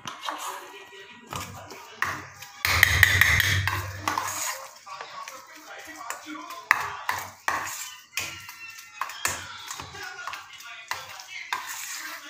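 Dahi kabab ingredients being mixed in a bowl, with a steady run of utensil scraping, clinking and tapping against the bowl, one louder rough burst near the start, and brief voices now and then.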